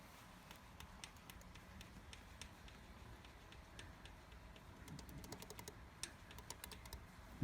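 A valve tappet on a Yamaha XVS 1100 motorcycle engine is rocked by hand, making faint, irregular light metallic clicks and taps up close in a quiet workshop.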